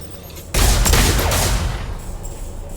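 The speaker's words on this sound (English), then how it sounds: "that gunshot noise got even louder" A loud burst of video game gunfire erupts after half a second of quiet, a dense fusillade of overlapping shots that holds steady and then slowly tapers into a lingering rumble.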